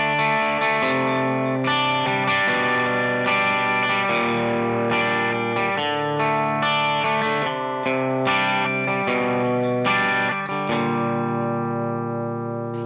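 Electric guitar with distortion and chorus effects strums a classic rock chord progression, steady loud chords changing every couple of beats with no talking.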